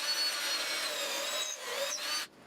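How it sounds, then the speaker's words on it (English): A drill bores pocket holes through wood with a pocket hole jig for mounting screws, a steady, close grinding and rubbing whine that lasts about two seconds before cutting off abruptly. "I used a pocket hole jig to drill out some mounting holes for some screws"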